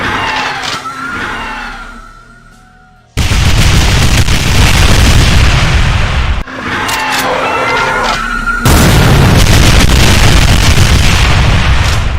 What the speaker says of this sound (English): It does a large spread of elevation clipping trails of ground explosions.